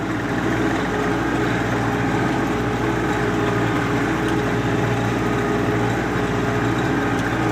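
A tractor engine runs steadily at close range on a snow-covered field during ploughing, giving a continuous low rumble that holds at an even level throughout with no speech.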